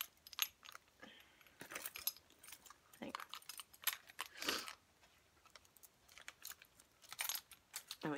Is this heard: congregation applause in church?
no